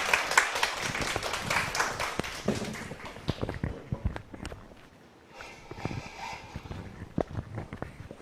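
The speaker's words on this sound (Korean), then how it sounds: "선교 교수님을 큰 박수로 모시겠습니다" Scattered clapping at a law academy information session as a professor is welcomed, with sharp individual claps that thin out and become sporadic, taps and light thuds mixed in, moderately close.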